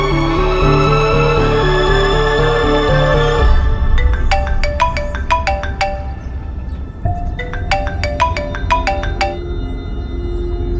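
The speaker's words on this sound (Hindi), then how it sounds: "सोनाक्षी को फोन करने जा रही हैं।" A phone ringtone plays as a bright, repeating electronic melody of short chiming notes. It follows a fuller musical passage and sounds clear and fairly loud over a low background hum.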